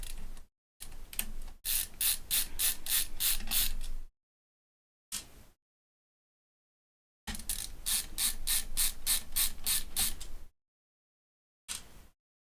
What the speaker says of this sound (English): There are 4 screws that need to come out.